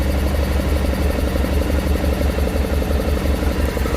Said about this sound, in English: I'm going to turn the idle down here a little bit.